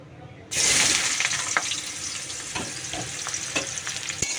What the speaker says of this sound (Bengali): দিয়ে দিয়েছি সাঁতলে নিই সবজিটাকে